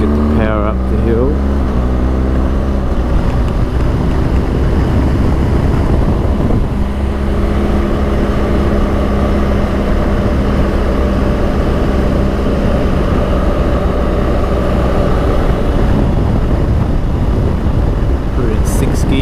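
A car with a manual gearbox climbs a mountain road in Victoria, Australia, its engine giving a loud, steady, sustained drone heard from inside the cabin.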